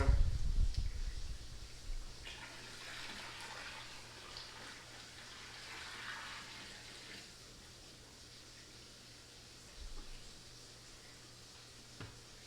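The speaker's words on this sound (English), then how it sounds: "You can see the water droplets flowing right out of there." Water flows from a reptile aquarium filter as a faint, steady trickling hiss that swells for a few seconds and then settles into a quiet, continuous stream.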